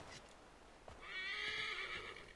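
Horse in Assassin's Creed 3 giving one clear, loud whinny after a few hoof clops.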